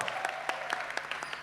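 Audience applause from a morning fireside chat crowd, a brief burst of clapping heard up close and fairly loud, with no voices over it.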